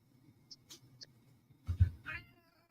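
A human voice imitates a cat's meow in a short, close vocal burst after a few faint chirps and clicks.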